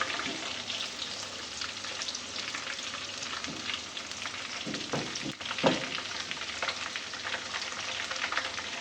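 Onions and cumin seeds frying in a pan for a lentil dish, a steady quiet sizzle with occasional stirring clinks and scrapes, close by and without speech.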